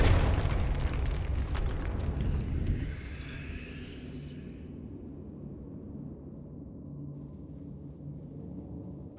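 In Hogwarts Legacy, a Confringo blasting curse explodes with a loud burst and rumbling boom that decays over a few seconds into a low lingering roar, fading to near silence.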